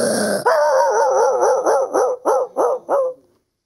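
A voice imitates a dog barking far off in a neighborhood: a drawn-out opening howl, then a run of about six separate yelping barks that fade out, loud and alone.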